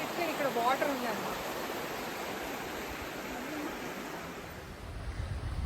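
The Ingleton waterfalls make a steady, full rush of falling water that fills the scene from close by, with faint voices briefly audible under the roar at the start.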